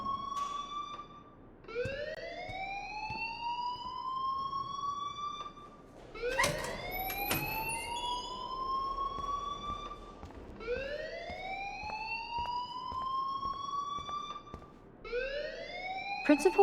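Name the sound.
fire alarm ringing in video game Life is Strange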